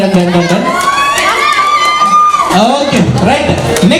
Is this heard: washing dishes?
no